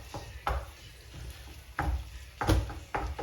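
Minced-meat bolognese sauce cooks gently in a pan, a soft sizzle broken by several close scraping stirs of a spoon across the pan's base.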